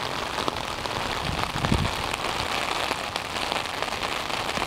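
Heavy pouring rain falls on a flooded street, a dense, loud, continuous hiss of drops striking pavement and surfaces, with no voices over it.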